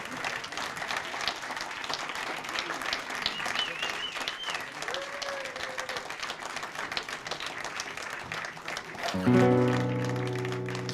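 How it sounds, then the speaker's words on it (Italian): Audience applause at an outdoor music festival concert on an esplanade at the citadel of Bastia, a dense, steady clapping from a crowd with a few cheers, swelling louder near the end as a chord from a musical instrument starts. "On vous demande de l'applaudir très fort depuis la citadelle de Bastia."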